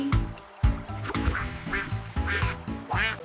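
A voice imitates a duck, singing rhythmic 'quack' calls over a bouncy children's alphabet tune with musical backing, loud and repeated across the span.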